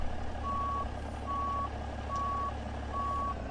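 Steady reversing beeps from a Kenworth T680 truck backing out in American Truck Simulator, four evenly spaced tones over a constant low engine rumble, with no talking.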